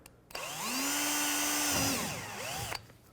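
A power drill whirs up, holds a steady high whine for about a second and a half, winds down, then gives a second shorter burst before stopping. Drilling a mud flap screw hole on a 2009-2014 Ford F-150.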